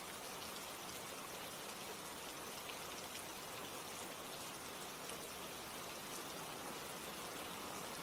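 Steady rain falling, a soft, even wash of hiss that carries on unbroken without any talk.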